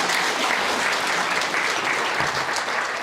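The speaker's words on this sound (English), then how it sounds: "Can we give them another round of applause?" Steady, dense applause from a large crowd at a lecture by Cardinal Stephen Chow, loud and sustained throughout with no break.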